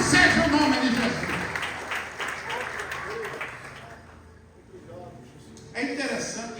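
Congregation applauding during a family worship service in a church, a broad wash of clapping that is loud at first and then fades, with a voice speaking over it.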